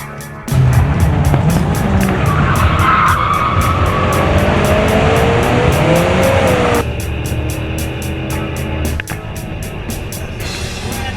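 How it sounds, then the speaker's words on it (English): Hearses roar down a quarter-mile drag strip at Gateway Racetrack, a loud, sustained engine and road noise that stays steady throughout and eases slightly near the end. "he races another hearse down the quarter-mile track"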